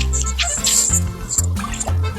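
Floodwater rushes under a bridge in Pondicherry after Cyclone Fengal, a loud, continuous gurgling and splashing flow heard up close.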